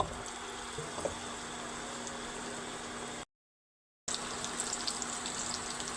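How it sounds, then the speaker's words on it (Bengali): Sweet pumpkin pieces fry in oil in a pan with a steady, close hiss and crackle that runs without talk and drops out completely for a moment partway through. "ডিম ভাজি করাটার মধ্যে আমি মিষ্টি কুমড়াটি বাইটা নেব তেল দিয়ে"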